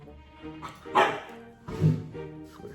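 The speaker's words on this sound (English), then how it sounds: "He's going to start barking again." A dog gives two short barks a second apart over a quiet background, moderately close, with a faint whine between them.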